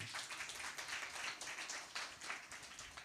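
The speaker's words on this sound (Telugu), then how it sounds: "గట్టిగా చప్పట్లు కొడతాం" A church congregation clapping loudly together, a dense, sustained burst of many hands heard from within the crowd.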